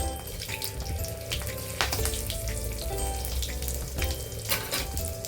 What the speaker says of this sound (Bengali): তড়কার জন্য প্রথমে জিরা তেজপাতা শুকনো লঙ্কা দিয়ে দিলাম এটা একটু ভালোভাবে কষিয়ে নেব